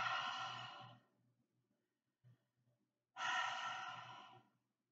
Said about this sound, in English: we'll practice a breath we call lion's breath